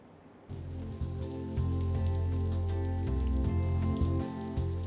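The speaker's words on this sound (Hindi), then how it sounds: "मानसून की एंट्री से पहले मध्य प्रदेश में प्री मानसून की बारिश हो रही है।" Pre-monsoon rain falls in Madhya Pradesh, India, a steady dense patter on surfaces under a constant low hum, with no voices.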